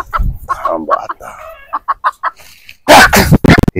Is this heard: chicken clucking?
yes